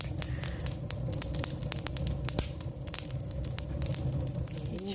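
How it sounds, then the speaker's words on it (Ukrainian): Dry twigs burning in a home fireplace on a cold evening, giving a steady run of sharp crackles and small pops over a low, constant roar of flame. "Вогонь, тепло, затишок."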